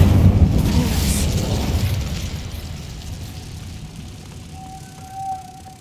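A fire spell cast in the video game Hogwarts Legacy: a loud, rumbling whoosh that fades steadily over several seconds, ending in a thin high tone and a small late swell.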